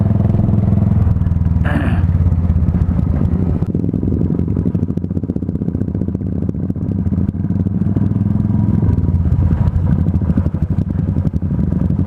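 Motorcycle riding along a road near a resort in Neral, a steady rumbling engine with a rapid pulsing beat and some clatter, loud and close for the whole stretch with no talk.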